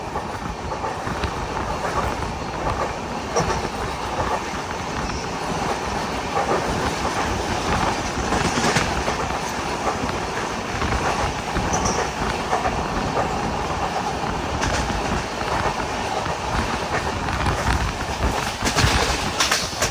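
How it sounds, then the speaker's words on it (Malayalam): An LHB passenger train of Konkan Railway, running from Madgaon towards Sawantwadi Road, rolls steadily with a continuous rumble and rhythmic clickety-clack of wheels over the rails, loud and close throughout. "കർമാലി റെയിൽവേ സ്റ്റേഷനിലേക്ക് ഇതാ നമ്മുടെ ട്രെയിൻ എത്തിയിരിക്കുകയാണ്"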